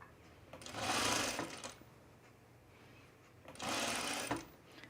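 A sewing machine sews binding within the seam allowance of a 1930s-inspired blouse, running in two short bursts with quiet handling noise between them.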